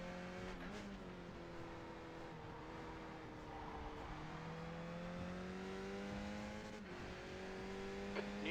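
Porsche race car engine in the iRacing sim, running steadily at high revs with repeated up and down pitch sweeps through gear changes, continuous and fairly close for the whole stretch.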